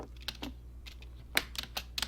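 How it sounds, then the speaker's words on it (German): Hard, rapid keystrokes hammer a computer keyboard in irregular bursts during a game, close and sharp against a low steady hum. "Alter, mach doch die Tastatur kaputt."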